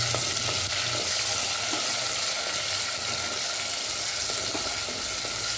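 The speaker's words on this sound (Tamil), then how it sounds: "இந்த தோலை மட்டும் போட்டு நல்லா வதக்கிக்கிறோம்." Tomato skins and curry leaves sizzle steadily in hot oil for a fish curry, a dense, loud, continuous frying hiss with faint stirring taps underneath and no voices.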